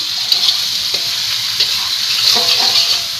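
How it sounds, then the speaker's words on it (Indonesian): Long-boiled game meat drops into a wok already full of spice paste and sizzles loudly and steadily, with faint stirring scrapes and clicks, up close and without talking. "Langsung kita masukkan ke dalam wajan yang sudah penuh dengan bumbu rempah-rempah ya."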